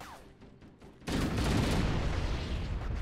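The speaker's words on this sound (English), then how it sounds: "I'm just going to nade it on you." A grenade blast in Halo: Combat Evolved on Legendary: a sudden loud roar of detonation and rumbling debris that sustains for a couple of seconds after quieter gunfire beforehand.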